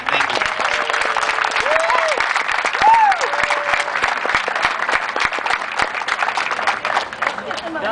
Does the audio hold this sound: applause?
yes